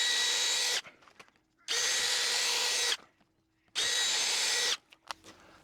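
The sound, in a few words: drill countersinking and pre-drilling for stainless steel screws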